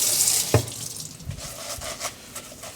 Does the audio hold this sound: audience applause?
no